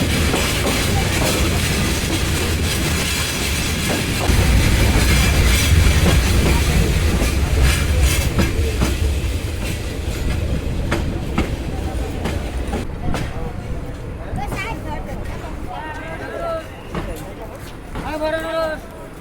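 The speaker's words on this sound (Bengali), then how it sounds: "ট্রেন প্রবেশ করছে শ্রীমঙ্গল রেলওয়ে স্টেশন" A Parabat Express train pulls into Sreemangal railway station, its loud rolling rumble and wheel clatter carrying strongly through the whole stretch, with squeals and crowd murmur building near the end as it slows.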